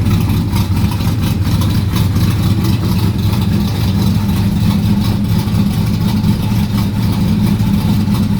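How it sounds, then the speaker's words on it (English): A 1969 Chevrolet Corvette C3 engine idles steadily while warming up, a continuous low rumble close by with an even, unchanging level and no voices. "So let the engine warm up."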